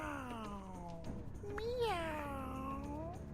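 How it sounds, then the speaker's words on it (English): A haunted-sounding cat meow in the video game Wizard101, a long, wavering, pitch-bending cry with a rising swell partway through, heard clearly over a soft background hum. "Really? A haunted meow?"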